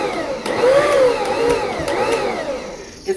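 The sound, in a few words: stand mixer with cookie paddles pulsing cheesecake batter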